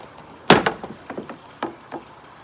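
An old car door card on a Cosworth project car is snapped: one sharp, loud crack followed by several smaller plastic cracks and clicks, close by with no talking.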